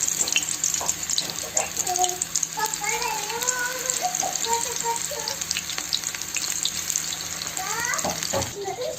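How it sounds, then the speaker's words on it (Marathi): Spinach pakoras sizzle steadily in hot oil with a dense, continuous crackle and bubbling, while a voice talks briefly over the frying. "बघा, मी पालक पकोडे टाकत आहे तेलात"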